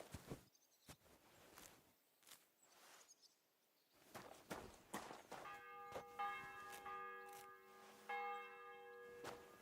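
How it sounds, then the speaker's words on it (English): A church bell in the video game Kingdom Come: Deliverance II tolls repeatedly with a bright, lingering ring, preceded by scattered footsteps and light clatter, with faint birdsong in the background. "The bell's ringing for Hans the 5th time."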